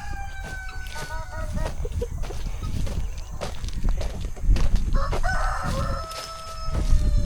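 Guinea fowl call around a homestead coop, repeated harsh cries with overlapping bird calls and shuffling footsteps nearby, fairly loud and close, with a person talking at moments.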